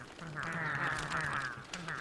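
Pengull birds in the Don't Starve video game squawk in a loud, nasal, quacking chorus, several overlapping honks drawn out and close by, with game ambience underneath.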